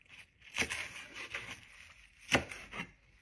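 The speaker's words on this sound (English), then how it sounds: "Also chopping up some chives and some fenugreek" A knife chops fresh chives and fenugreek on a wooden board, a handful of soft irregular thuds with quieter scraping between, close and quiet.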